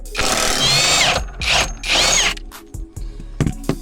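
A power tool drives car subframe bolts in short loud bursts, a whirring, ratcheting buzz that stops and restarts several times, close up, followed by a few metallic clicks and clanks.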